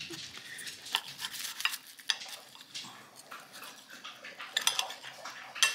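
Knife and utensils clink and scrape against a dish while an air-fried apple pie is cut open in a home kitchen, with sharp metallic taps and light clatter in an irregular rhythm, close and moderately loud, with no talking.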